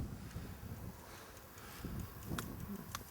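Wind blows across an outdoor spot about 11 kilometres outside Daugavpils, making a steady low rumble of microphone buffeting with a few faint clicks and rustles on top.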